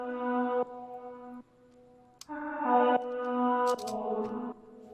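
A vintage-style music sample run through phaser and auto-pan effects plays as sustained chords with a sweeping, shifting tone, a short gap, then fuller stacked chords, quiet and close with no voices.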